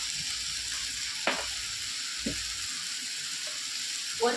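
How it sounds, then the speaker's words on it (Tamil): Ginger garlic paste and spices sauté in a pan for a fish curry, giving a steady, even sizzling hiss broken by a few brief clinks of stirring. "இஞ்சி பேஸ்ட்டு பூண்டு 2ஐயும் போட்டு நல்லா வதக்கணும்"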